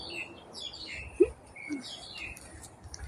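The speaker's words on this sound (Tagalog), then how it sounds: "Did you hear that bird voice? They are singing." Birds sing and chirp among trees in Hong Kong. Short, thin tweets come at a moderate distance over a quiet outdoor background, with one brief louder note standing out.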